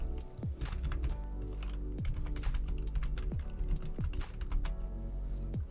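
Rapid, close clatter of computer keyboard keys as email addresses are typed, with a few heavier thumps from the space or enter key.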